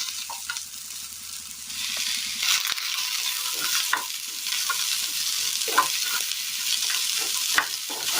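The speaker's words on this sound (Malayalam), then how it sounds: "ഈ സമയം ഇതിലേക്ക് നമ്മൾ അരിഞ്ഞു വെച്ചിരിക്കുന്ന സബോള ചേർത്ത് കൊടുക്കാം" Chopped onion is stir-fried with okra in a pan for a Kerala curry, giving a steady sizzle punctuated by repeated scraping and stirring strokes of a spoon, close and clear, with no voices.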